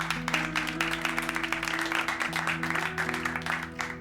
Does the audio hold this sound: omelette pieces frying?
no